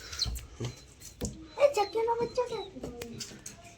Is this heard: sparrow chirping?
yes